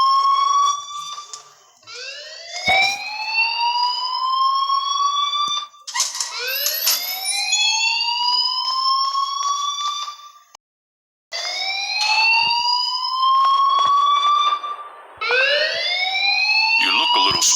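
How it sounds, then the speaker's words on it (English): A fire alarm in the video game Life is Strange: a loud, shrill electronic tone that sweeps upward again and again in repeating cycles, nearly continuous with one brief cutout midway. "please turn off that alarm"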